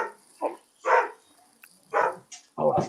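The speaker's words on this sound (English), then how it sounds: "that's Big Girl Bark" A large female dog barks several times in short, loud, spaced bursts, with a few quieter whimpers or yips between them, recorded nearby at a drag racing weekend.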